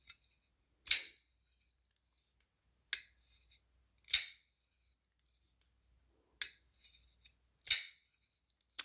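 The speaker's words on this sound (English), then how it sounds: "Listen to that back flipper. Oh, it's snappy." Kizer folding knife with a back flipper snapping open repeatedly, five or six sharp, crisp metallic clicks spaced a second or two apart, close up against a silent background.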